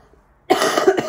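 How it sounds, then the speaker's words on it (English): A single harsh cough breaks a near silence, close to the microphone and followed by a short rough rasp. "I've still got a cough."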